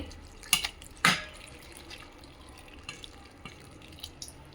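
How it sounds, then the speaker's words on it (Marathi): Water drains from a pot of freshly washed mixed vegetables for soup in a home kitchen, with two quick splashy pours followed by scattered soft drips, fairly quiet. "हे पहा, आता हे पाणी मी असं काढून टाकते."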